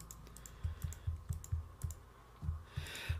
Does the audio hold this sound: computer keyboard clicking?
yes